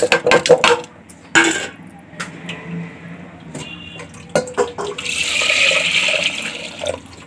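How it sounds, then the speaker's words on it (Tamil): Split chickpeas (chana dal) being washed in water in a kitchen, with splashing, rattling and running water in irregular bursts, followed by a steadier rush of water toward the end. "முதல்ல கடலைப்பருப்பு எடுத்துக்கலாம் அதை நல்லா கழுவி எடுத்துக்கலாம்"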